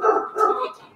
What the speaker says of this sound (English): Sorry if y'all hear my dog.